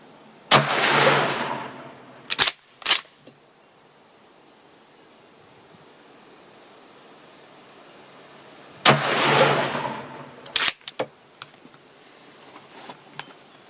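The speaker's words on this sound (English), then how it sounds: "the last shot you saw was with the muzzle brake on" Two sharp, loud rifle shots from a Remington 7600 in .308 fitted with a muzzle brake, several seconds apart, each followed by a few smaller cracks and echoes in open air.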